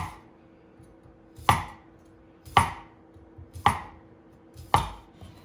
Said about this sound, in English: We'll go ahead and get the chef's knife, and I'll show you how sharp and how easy it is to cut with these knives.